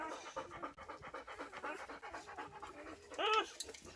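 A beagle and chocolate ticked coonhound cross dog pants close up in rapid, steady breaths, ending with a short high whine.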